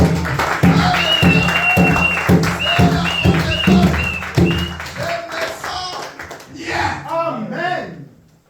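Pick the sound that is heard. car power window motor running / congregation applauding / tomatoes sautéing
congregation applauding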